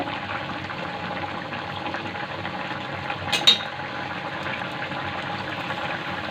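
Prawn and taro curry simmering in a pot, a steady soft bubbling hiss running throughout with a brief clink of stirring near the middle; no voices.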